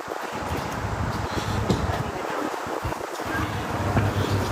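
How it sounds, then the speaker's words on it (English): Strong wind at a park buffets the microphone in a steady, loud, rumbling roar with gusty swells throughout, and no clear voices on top. "Damn, it's windy out there. It's windy as hell."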